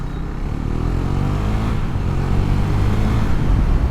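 A KTM Duke 390 motorcycle engine runs loud and close, its tone climbing steadily as it revs and accelerates for the whole stretch, with no talking.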